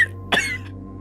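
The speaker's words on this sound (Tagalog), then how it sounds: "inuubo ka na naman" A single sharp cough bursts out over a steady low hum, followed by a faint breathy trailing sound.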